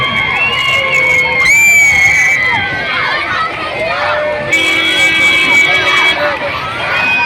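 Crowd of schoolchildren cheering, shouting and clapping at a send-off in Pudukkad, Thrissur, loud and sustained throughout, with high whistles and shrill voices rising above the din.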